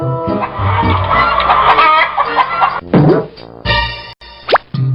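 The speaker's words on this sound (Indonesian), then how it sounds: "Ayam." Chicken clucking and squawking in a cartoonish sound effect, with bright boing and plop noises mixed in, loud and close, set among children's learning music.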